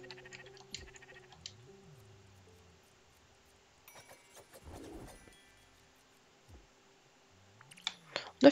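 Two short wavering bleats, like cartoonish sheep in the video game Spiritfarer, bookend a quiet stretch with soft clicks and a brief rustle in the middle.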